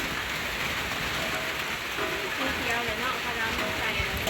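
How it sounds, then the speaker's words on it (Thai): Steady rain pours down, a dense and even hiss of drops hitting surfaces nearby with no breaks. "ฝนตก"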